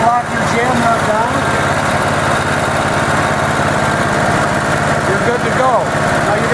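Generac GP15000E portable generator engine idling, a loud, close, steady rumbling drone with mechanical vibration throughout and a voice speaking briefly over it.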